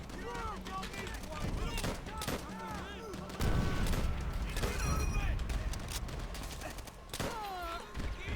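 M1 Garand rifle fire in Call of Duty: World at War, with repeated loud close shots and distant battlefield gunfire under layered combat noise, while a voice talks over the action.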